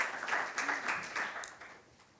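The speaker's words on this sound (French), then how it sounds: "Donc, on peut applaudir." Applause from an audience at a corporate bank talent event, scattered clapping that is fairly faint and tapers off toward the end.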